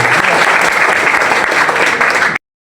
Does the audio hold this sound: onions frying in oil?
no